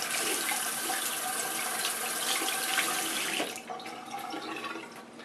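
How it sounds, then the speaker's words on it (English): Running tap water splashing as shave soap is rinsed off skin, a steady close hiss of flowing water that softens and changes near the end, with no talk. "I'm not rubbing or anything, I'm just rinsing it off."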